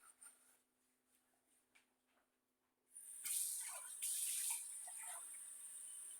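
Water runs from a kitchen tap in a steady hiss. A few faint clicks come first, then the flow starts suddenly and stays loud and close until the end.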